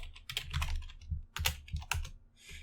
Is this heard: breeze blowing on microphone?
no